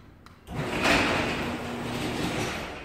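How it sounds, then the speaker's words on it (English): A manually operated residential garage door opens with a sudden rolling, rattling surge that carries on steadily for a couple of seconds. It is close and fairly loud, with no talking. "there's only one garage door that opens manually"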